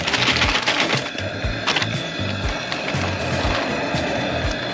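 Shell-on, deveined shrimp tumble into a pot of low country boil with corn and sausage, giving a close burst of clattering, splashing and rattling followed by irregular knocks and bubbling.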